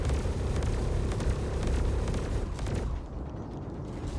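Turret gunfire in the video game Star Citizen, a dense, rapid, rumbling barrage of shots that runs continuously for about three seconds, then drops to a lower rumble.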